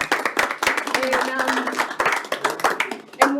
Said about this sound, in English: And why we're clapping is because he has taken an incredible role with the Ministry for the Environment